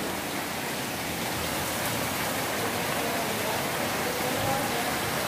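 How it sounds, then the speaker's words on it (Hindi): Heavy rain pours steadily in a dense, unbroken hiss, loud and close, with no pauses throughout. "बारिश हो रही है और बहुत तेज़ हो रही है"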